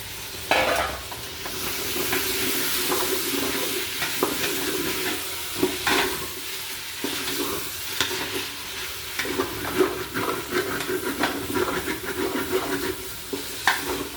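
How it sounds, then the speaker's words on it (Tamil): Tomatoes, mint and coriander frying in a pan give a steady, close sizzle broken by repeated stirring scrapes and clicks, with no talking throughout. "தக்காளி புதினா கொத்தமல்லி எல்லாம் சேர்த்து நல்லா ஃப்ரை பண்ணிக்கலாம்"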